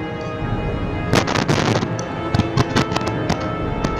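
Gunshots in the video game Heavy Rain come as a loose cluster of sharp, loud bangs over a dense, constant background roar, with no voices.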